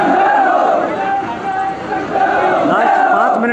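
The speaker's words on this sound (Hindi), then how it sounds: "शहीद वीरेंद्र सिंह के सम्मान में हजारों की भीड़।" A crowd of thousands fills a martyr's funeral procession with a loud, continuous roar of massed voices, raised chanting and shouting swelling and dipping close around.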